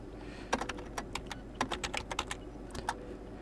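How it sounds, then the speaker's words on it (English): Someone types a command on a computer keyboard in a Linux terminal: a dozen or so distinct, close key clicks in an uneven rhythm over a low steady hum. "now we can check by typing in sudo systemctl status nginx."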